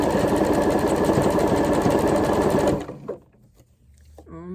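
A sewing machine stitches the neckline of a tee shirt with a loud, steady, rapid whir that stops abruptly partway through, leaving quieter handling sounds and then a voice.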